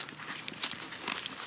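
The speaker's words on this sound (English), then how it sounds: "It zips up pretty nice" A Fieldpiece HVAC tool carrying case is zipped shut. The zipper gives a short, close, raspy run of crinkly, scratchy noise.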